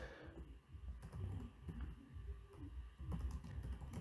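Rapid clattering keystrokes on a computer keyboard, typed continuously at close range with uneven bursts and short pauses, no voices present.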